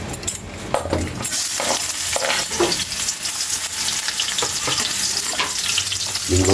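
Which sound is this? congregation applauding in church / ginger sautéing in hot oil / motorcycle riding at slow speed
ginger sautéing in hot oil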